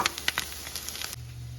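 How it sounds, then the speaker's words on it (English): Mushrooms sizzle and crackle in a hot pan while cooking for a pizza pasta dish, a steady close frying hiss with scattered pops that cuts off abruptly near the end, leaving a low hum. "I'm going to go ahead and add these mushrooms now. Let those cook for a few more minutes."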